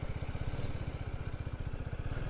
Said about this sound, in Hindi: अपना मोटरसाइकिल इधर करते हैं पार्क।